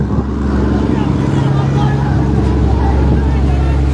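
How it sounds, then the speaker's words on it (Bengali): A motor trawler's engine drones low and steady from close by on a river in Shariatpur district, Bangladesh. Agitated voices shout over the engine. "ওই যে সামনে ট্রলার দেখা যাইতেছে"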